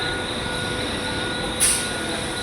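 A Central Railway train standing at platform 5 of Kalyan station, with a steady hum of rail noise and a short high squeal partway through.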